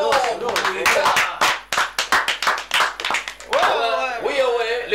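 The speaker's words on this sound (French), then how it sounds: "on acclame très fort pour les gars" A talk-show studio audience claps for visiting music guests in sharp, uneven bursts of hand claps, with voices chattering and calling out between and over the clapping.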